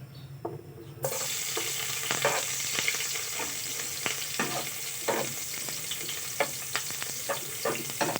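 Garlic drops into hot cooking oil for liver adobo, bursting into a loud, continuous sizzle after a quiet start, with repeated stirring scrapes of a utensil against the pan throughout.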